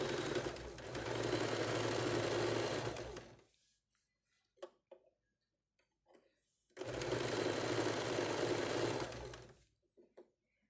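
A sewing machine stitches a halter neck in two loud, steady runs of about three seconds each. A quiet pause with faint fabric handling separates the runs.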